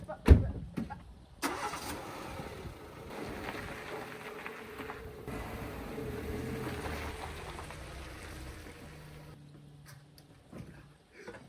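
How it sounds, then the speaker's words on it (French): A Renault Clio engine catches and starts while the car is push-started in reverse down a slope, a sharp crank burst followed by a steady mid-pitched running rumble that fades near the end, with voices talking over it. "Vous pouvez démarrer une voiture en poussant en marche arrière."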